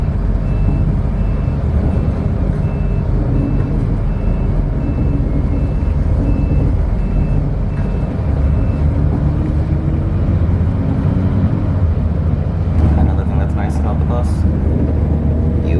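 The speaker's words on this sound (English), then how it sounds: "So this bus is going to take me to the Suosin train station" Steady loud engine rumble and road noise fill the inside of a moving bus in Taiwan, with a repeating electronic beep early on and someone talking over it throughout.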